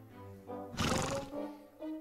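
A cartoon horse neighs, a loud, shaky whinny in the middle with softer harmonic calls before and after, in the Horseland animated series.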